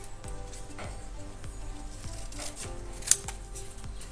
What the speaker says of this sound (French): Donc je vais couper une petite chute de papier